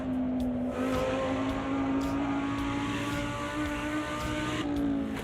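A race car engine in the racing video game Automobilista 2 drones steadily at high revs, a sustained buzzing hum with slight pitch shifts, and no talking over it.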